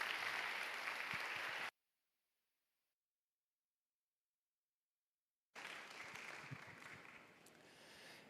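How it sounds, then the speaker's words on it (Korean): Church congregation at a Sunday youth worship service applauding to welcome a pastor; bursts of clapping at the start and end, separated by a stretch of silence. "우리 환영하는 의미로 우리 김충일 목사님 박수로 환영하고 있습니다."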